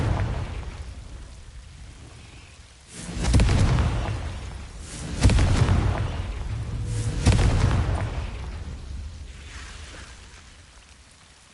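In the Hogwarts Legacy video game, the Confringo blasting spell goes off three times at spaced intervals, each a loud, heavy boom with a rumbling tail that fades slowly.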